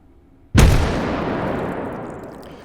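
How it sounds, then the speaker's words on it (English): A single loud explosion in the VR shooter H3VR: a sudden sharp blast followed by a long, rumbling, gradually fading tail, heard alone. "So there we get the explosion sound and we get the visual hit"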